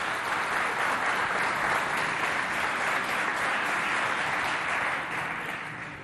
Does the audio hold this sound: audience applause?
yes